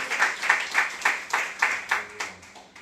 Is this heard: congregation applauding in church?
yes